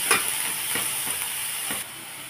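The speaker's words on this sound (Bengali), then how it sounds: "একটু গ্যাসটা স্লো করে দেবো, যাতে পুড়ে না যায়, যাতে এগুলো একটু নরম হয়ে যায়। তো সেই হিসাবে আমি এগুলোকে ভাজবো।" Vegetables for white sauce pasta fry over low gas in a pan, a soft close sizzle broken by rhythmic scrapes and taps of stirring, then the sizzle drops quieter near the end.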